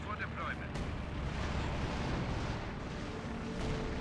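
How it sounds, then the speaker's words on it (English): An incendiary artillery barrage in Company of Heroes 2, a steady, heavy rumble of shells landing with a sharp crack near the start and another swell later, under a faint voice. "On top of the VP once again with the incendiary barrage."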